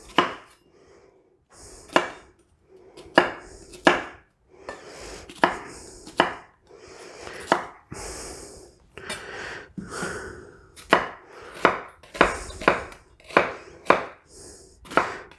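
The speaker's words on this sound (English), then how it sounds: "So it just has to be really rough cut." A knife rough-chops onion on a cutting board, giving sharp irregular thuds, some single and some in quick runs, with small scraping and handling noises between the cuts.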